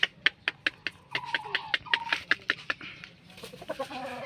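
An eight-month-old double sweater gamefowl rooster with its comb removed clucks close by in a quick, rhythmic run of sharp notes, and a few higher calls come near the end.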